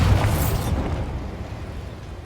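Bombarda blasting spell going off in Hogwarts Legacy, one loud close explosion with a deep boom that rolls away into a fading rumble.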